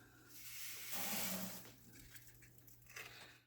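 Water being poured into a winemaking bucket, a broad splashing rush that swells in the first second and a half and then trails off into softer trickles and drips, alone and fairly close.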